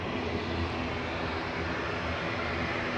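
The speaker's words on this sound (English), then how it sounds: "Tiny little Embraer" Embraer Phenom 300 business jet departing Manchester Airport, a steady broadband engine roar that holds at a constant loud level throughout with no voices.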